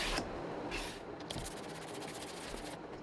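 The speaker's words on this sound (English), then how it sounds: "a random orbit sander will definitely work" A random orbit sander works over a wooden cutting board with 80-grit paper, giving a soft, steady whirring rasp with short bursts of brighter hiss, close and fairly quiet, no talking.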